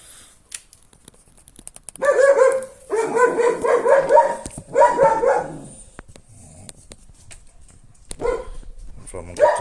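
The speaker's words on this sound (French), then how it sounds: "vous pouvez entendre mon chien qui aboie aussi" A pet dog barks in repeated bursts of yips and woofs nearby indoors during an electric bike conversion kit install, with light clicking and handling noises in between.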